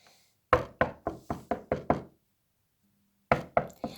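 Knocking on a door, with a quick run of six sharp raps, a pause, then three more knocks, close and crisp.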